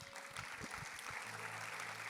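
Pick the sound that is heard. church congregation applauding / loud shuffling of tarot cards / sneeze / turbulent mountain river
church congregation applauding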